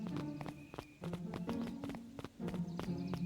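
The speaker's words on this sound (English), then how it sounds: "Luka heard a group of footsteps approaching" A group of footsteps in the Beacon Pines video game, steady rhythmic steps approaching in a quick, irregular patter over a low tonal music bed, fairly close and clear with no talk.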